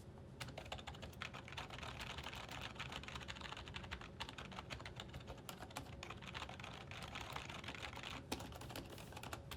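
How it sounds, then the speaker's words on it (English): Steady, continuous typing on a Redragon membrane keyboard, soft muffled key presses in a fast irregular rhythm with no talking. "let's get kind of like a sound test of this membrane keyboard."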